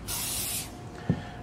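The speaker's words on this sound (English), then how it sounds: "Spray it." GluBoost sprayed onto hardwood gives one short, close hiss from an aerosol can, followed a moment later by a small soft tap.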